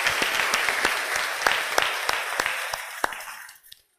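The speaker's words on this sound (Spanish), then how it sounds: "Fuertes palmas, hermanos, para el Evangelio" A church congregation bursts into steady, dense applause for the Gospel reading, many hands clapping together close and loud for several seconds before the clapping thins out and stops.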